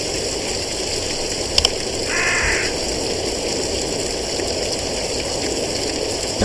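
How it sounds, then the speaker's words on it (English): A single brief crow caw rises over a steady hiss of rain or running water in the horror video game Shutter, with a small click just before it. "Nothing suspicious so far, besides the noise of crows."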